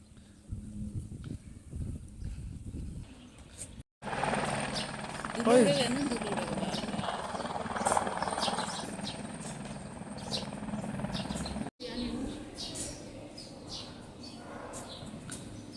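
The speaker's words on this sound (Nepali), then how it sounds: "एउटा हेलिकप्टर पनि जाने रहेछ क्या" A helicopter drones overhead near the Annapurna cable car, a steady rumbling whir that rises and fades, with people talking nearby and a few bird chirps in the background.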